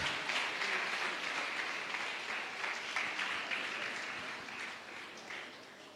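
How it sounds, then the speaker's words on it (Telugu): A crowd applauds at a student meeting in a church setting, steady dense clapping filling the whole stretch and slowly fading toward the end, with no voices over it. "చప్పట్లు కొడదాం."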